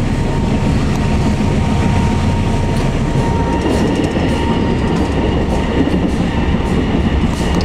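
Inside an economy-class carriage of a fast passenger train near Bandung, a constant loud roar of wheels and rails with faint rhythmic clatter runs throughout, with no talking.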